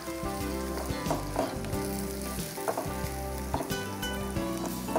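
Tomatoes sautéing in a pan for Sri Lankan seeni sambol, a steady soft sizzle and crackle of frying with occasional stirring clatter, close and fairly quiet with no talk.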